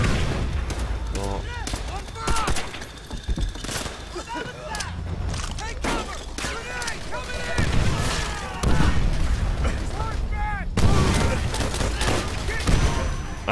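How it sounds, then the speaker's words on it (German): Rapid gunfire bursts and booming blasts, including a grenade explosion, crackle through a World War II trench battle in Call of Duty: World at War, dense and loud with heavy impacts throughout and voices mixed in. "Da kam, glaube ich, schon eine Granate geflogen."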